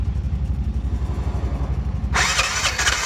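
A Bajaj BS6 motorcycle engine after a bearing repair, cranking with a rapid rhythmic chug for about two seconds and then catching and running, loud and close with no talk.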